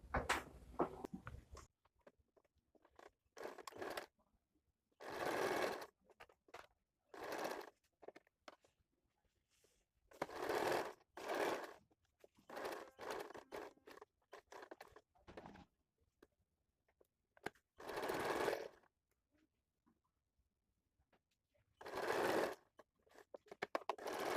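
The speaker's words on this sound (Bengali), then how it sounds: "এবার আমি প্রথমে গলার দিকটা সেলাই করে নেব এইভাবে" Sewing machine stitching the neckline of a designer blouse, running in short, quiet bursts separated by pauses, each run a steady rapid chatter, with no talk.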